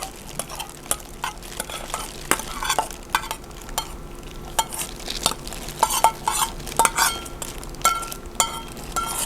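Khmer vegetable salad of bean sprouts, cucumber and ginger being stirred and tossed in a bowl, with repeated clinks and soft scraping strokes in an irregular, continuous rhythm, close and moderately loud.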